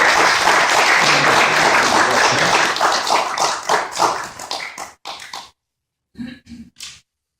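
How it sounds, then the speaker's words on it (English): A gathering of the Baltimore Guardian Angels gives a round of applause for a member called Taxman, loud sustained clapping that thins into a few scattered claps, then brief silence and a couple of final claps. "Can we give a nice round of applause for Taxman?"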